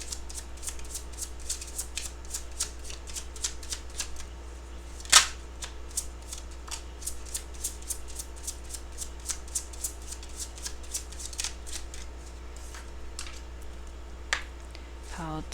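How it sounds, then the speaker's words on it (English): An oracle card deck is shuffled continuously, giving many quick crisp riffling clicks and soft slaps at a steady rhythm, close and clear, with one louder snap partway through and no talking. "And I'm actually going to shuffle it this way as well."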